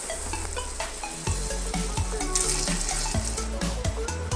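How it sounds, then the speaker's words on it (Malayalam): Boiling water pours and bubbles into a pot of chicken biryani with a steady sizzling, frying-like texture, punctuated by a few clanks; no voices. "തിളച്ച വെള്ളമാണ് ഇപ്പോൾ ഞാനിതിലേക്ക് ഒഴിച്ചു കൊടുക്കുന്നത്."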